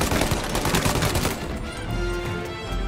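Rapid bursts of Tommy gun fire in the video game Mafia: Definitive Edition, loud and dense for about a second and a half before fading into a lower rumble.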